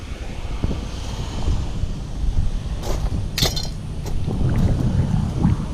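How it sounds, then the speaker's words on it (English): Steady outdoor wind buffeting the microphone, a continuous low rumble with a few brief higher gusts or rustles. "Kind of windy out here."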